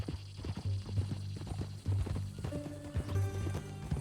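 Hooves of a horse clip-clop in Red Dead Redemption 2, a run of close, distinct thuds at a walking pace, with a low tonal hum from the game beneath them.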